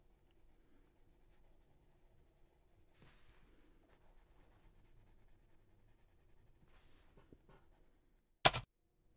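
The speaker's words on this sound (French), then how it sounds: "Vous voyez que le son du crayon, vraiment pas pareil comme sur le papier rugueux." A Lyra Rembrandt Polycolor colored pencil moves across smooth paper in soft, faint, intermittent scratching strokes, followed near the end by one sharp loud knock.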